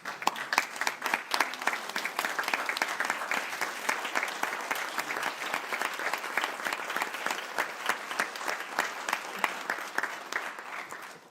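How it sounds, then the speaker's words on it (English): A room full of people at a school board of education meeting applauds steadily for about eleven seconds, a dense wash of many hands clapping at even strength, with a few murmurs mixed in. "I'd like everybody in the room to stand up and give him a round of applause"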